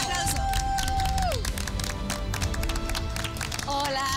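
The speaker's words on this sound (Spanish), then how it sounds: "¡Fuerte aplauso!" A studio audience on the televised cooking competition MasterChef Celebrity gives loud, continuous applause with cheering, mixed with music and a speaking voice.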